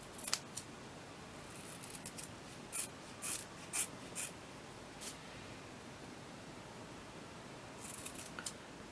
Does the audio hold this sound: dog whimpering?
no